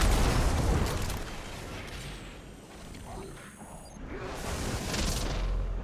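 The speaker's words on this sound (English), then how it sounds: "I think I'm just going to rocket it once" Rocket explosion in Destiny 2, a heavy boom with rumbling low end that fades into a dip, followed by further blasts and noise building again toward the end.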